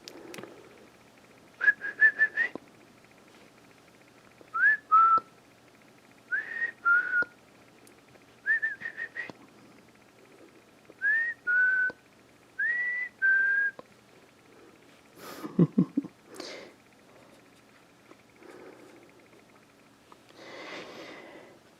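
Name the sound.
human whistling to call a cat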